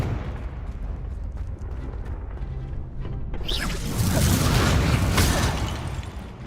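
Confringo blasting spell in Hogwarts Legacy, building as a rushing whoosh into a loud, broad explosive burst that rumbles on for several seconds, with no voice over it.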